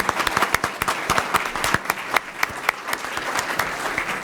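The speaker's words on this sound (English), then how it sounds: "if you could give our panel a round of applause" An audience at a Great Salt Lake issues forum applauds a panel, with dense, steady clapping from a crowd that stays even throughout, fairly distant and without speech.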